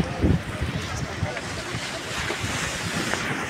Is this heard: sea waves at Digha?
yes